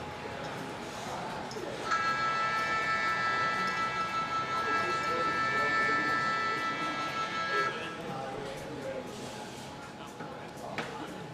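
A siren with steady tonal wails sounds for about six seconds, moderately distant, at an outdoor lawn bowls pairs match, over faint background noise with no clear talk.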